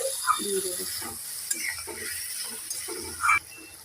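Chapila fish curry with eggplant and potato is stirred in a pan in repeated soft scraping strokes near the mic, with low sizzling throughout and a sharper clink near the end.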